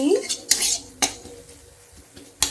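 Chicken seasoned with turmeric and salt is stirred and sautéed in a pan, with a few sharp metallic clanks and scrapes of the utensil against the pan over a quiet background.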